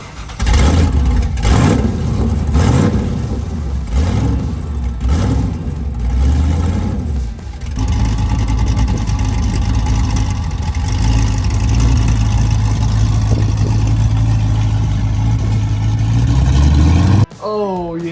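A 1968 Chevrolet Chevelle's engine revs loudly and repeatedly, rising and falling, then settles into a steady, rough idle with voices talking over it, before a sudden cut near the end.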